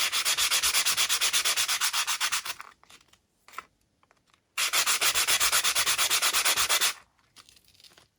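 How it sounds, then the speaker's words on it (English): Painted metal keytags are sanded in two long, steady bursts of rapid, close, rough rubbing, separated by a few seconds of quiet with small scrapes. "I've decided to do the sanding, and I'm going to do it with these."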